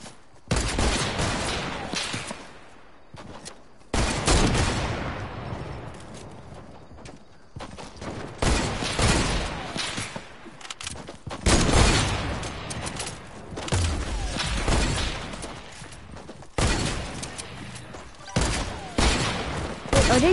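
Gunfire in a multiplayer shooter video game: repeated loud bursts and volleys of shots spread across the whole stretch, with brief quieter gaps, heard alongside in-game action noise.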